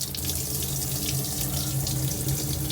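Water runs steadily from a galley sink tap aboard a narrowboat, a constant close hiss and splash with no talking.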